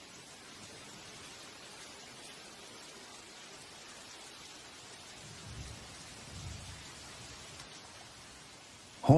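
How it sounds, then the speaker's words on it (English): Steady rain pours down in a tropical forest, a soft continuous wash of drops with a couple of low rumbles midway and a sudden knock at the very end. "The rain starts pouring down like a harsh welcome to the real world."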